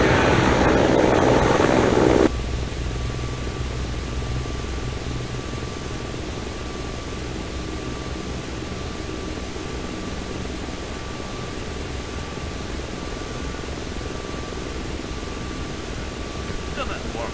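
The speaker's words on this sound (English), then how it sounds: "Not in this helicopter." A helicopter in the FlightGear flight simulator game: a steady, broadband rotor and engine drone holds for the whole stretch, louder in the first two seconds, then settling into a constant hum.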